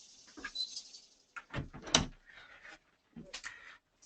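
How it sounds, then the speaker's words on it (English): An interior door being pulled shut, a few short bumps and scrapes with a louder thud near the middle, then quieter handling noise, close by in a quiet room. "Let me close this door."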